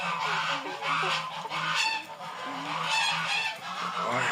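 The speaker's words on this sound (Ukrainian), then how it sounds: "Це чуть що хто не почув, гусі прийшли." Geese honk repeatedly in loud, overlapping calls close by, a noisy chorus with no talking.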